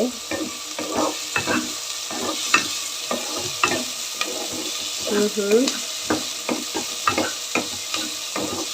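Carrots and mixed vegetables stir-fry in a pan for noodles, a steady sizzle broken by frequent scraping and stirring clatter of a spatula, close and moderately loud, with a brief voice in the middle.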